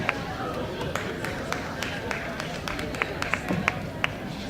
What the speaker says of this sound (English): Thank you, 2 people, for clapping.